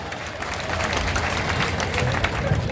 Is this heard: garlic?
no